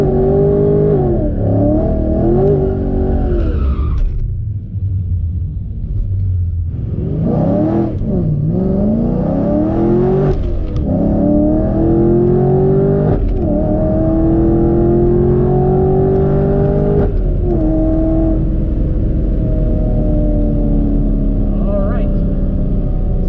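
A supercharged Camaro on a drag run accelerates hard, its engine rising in pitch through repeated gear pulls with brief dips between shifts, loud and close throughout.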